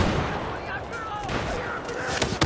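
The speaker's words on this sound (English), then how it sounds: "there's a guy below with a grenade launcher just shooting us" Grenade launcher fire in Battlefield 4 on the Siege of Shanghai map during a Domination match, heard as a dense barrage of booming blasts and crackling shots with a few sharper bangs near the end, mixed with indistinct game chatter.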